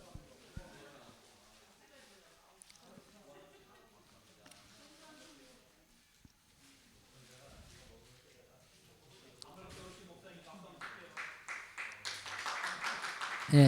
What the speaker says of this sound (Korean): 간식 가져오신 목사님께 박수 쳤습니다